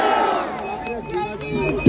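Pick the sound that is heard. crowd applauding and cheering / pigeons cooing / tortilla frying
crowd applauding and cheering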